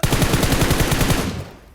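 A loud, close burst of automatic gunfire in a one-man squad shooter match, rapid evenly spaced shots that stop abruptly and ring out into a short fading tail.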